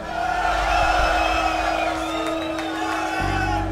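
A concert crowd shouts a chant together, a dense sustained roar of many voices filling the whole stretch with steady loudness.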